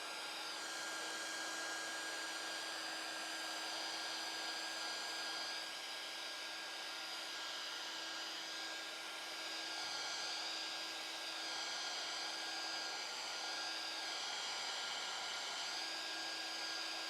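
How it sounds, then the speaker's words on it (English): A blow dryer running continuously at an even, steady whine for the whole stretch, close and alone with no talking. "And I'm going to get the blow dryer back out."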